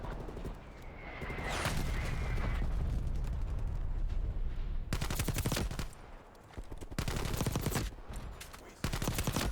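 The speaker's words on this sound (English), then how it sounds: "Artillery targeting detected. Artillery inbound." Artillery strike explosions in Call of Duty Black Ops 3, a loud burst of booming blasts and rapid crackling impacts, continuing in dense waves with brief lulls between.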